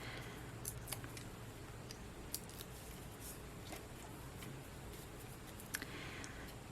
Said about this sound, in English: let's peel off the backings.